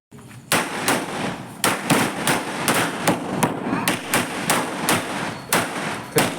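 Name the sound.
festival firecrackers bursting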